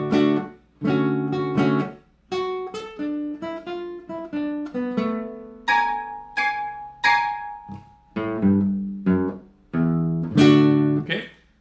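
Plucked and strummed guitar notes of a song intro ring out in short phrases with brief gaps, clear and close, with some bright, higher, unusual-sounding strums played above the nut mixed in.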